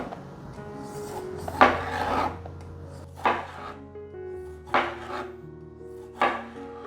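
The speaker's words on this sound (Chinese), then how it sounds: "把小番茄切成圆片状" A knife slices cherry tomatoes into round slices on a cutting board, giving four crisp, separate chops spaced about a second and a half apart, close and clear over a quiet kitchen background.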